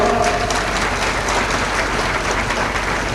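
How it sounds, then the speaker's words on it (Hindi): A live bhajan audience at the Ujjain Kumbh claps together in dense, steady applause that stays loud and close for the whole stretch. "ताली बजाओ।"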